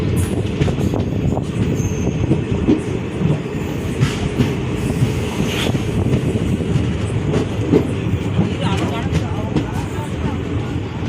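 A passenger express train rumbles along at steady speed with rhythmic wheel clatter and occasional metallic squeals, loud and close, under some faint talking, arriving at Karur, Tamil Nadu.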